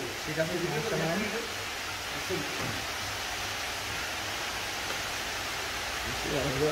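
Steady rain falling outdoors at a livestock market, a broad even hiss throughout, with voices talking briefly at the start and end.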